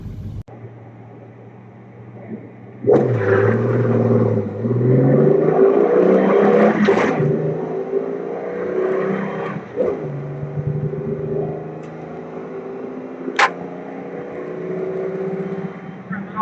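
An inline-six Fox-body Mustang accelerates around a race track corner, its engine note rising loud and close, with a deep rumble climbing in pitch, easing off and building again; someone talks over the engine throughout.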